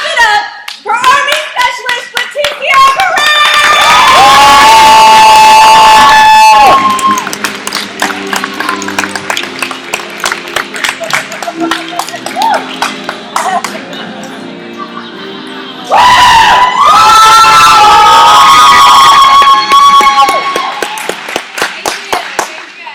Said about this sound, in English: stand on your feet and clap it up for Army Specialist Leticia Perez!